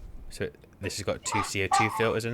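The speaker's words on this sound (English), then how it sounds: "Oh my god. I'm sorry about the dog." A dog barks and yips in short bursts close by, under someone talking about equipment.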